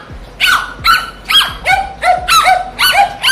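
A dog yelps and whimpers in a rapid series of about eight high, squealing cries as it runs off after being struck by a lizard's tail, loud and close with no talk over it.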